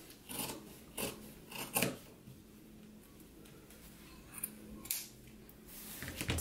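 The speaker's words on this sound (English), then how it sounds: "I'm going to clip up here, but then trim all of this off" Scissors snip and trim fabric facing along a bottom hem edge while sewing, several close crisp clipping bursts in irregular clusters, quiet between cuts.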